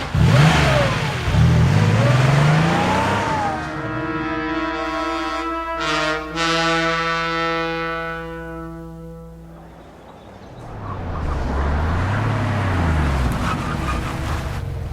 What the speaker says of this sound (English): Careful, Jerry, that's my car!